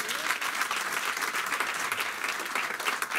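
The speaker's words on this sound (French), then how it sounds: "On peut quand même les applaudir." Congregation in a church applauding steadily, a dense, even wash of clapping from many hands that holds without a break from start to finish.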